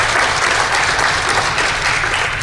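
An audience gives a round of applause at a trade talks session, a loud dense wash of many hands clapping that stays steady from start to finish.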